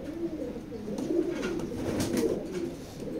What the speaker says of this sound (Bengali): মাদিটা ফুল মুস্তিতে এবং একদম ইয়াং একটা কবুতর